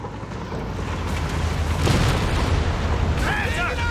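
A Bombardier artillery shell explodes in the video game Company of Heroes 3, a loud, rumbling boom that swells midway and lingers amid battlefield noise, with a voice talking over it.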